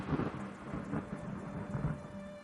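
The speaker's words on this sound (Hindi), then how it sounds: "फिर अचानक भारी बारिश। तेज हवाओं ने पेड़ों को हिलाकर रख दिया।" Heavy rain pours steadily while low thunder rolls and rumbles in several swelling bursts, a dense stormy wash with no voices.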